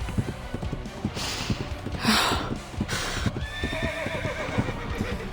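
A horse galloping in the video game Reverse 1999, rapid steady hoofbeats close and clear, with a whinny partway through and a soft whoosh over the running rhythm.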